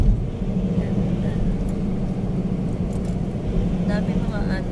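Traffic on an elevated skyway, a steady low rumble of cars and engines passing close by, heard from inside a moving vehicle while people talk over it.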